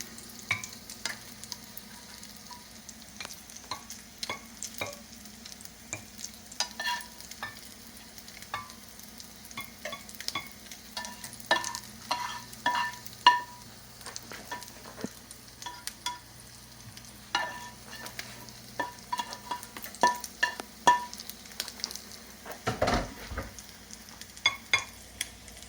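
Fish frying in a pan, a steady low sizzle with scattered crackles and pops running throughout, fairly close, no talking over it.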